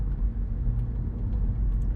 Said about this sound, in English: I'm driving a Prius